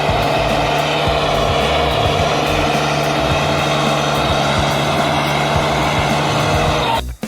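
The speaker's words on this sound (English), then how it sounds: "In this clip, the skidder is working in a snow-covered forest" A forestry skidder with snow chains on its tires hauls heavy logs through a snow-covered forest, its engine a loud, steady, unbroken drone that cuts off abruptly at the end, with no voices.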